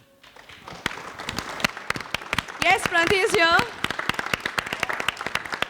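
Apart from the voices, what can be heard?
audience applause at a DevOps panel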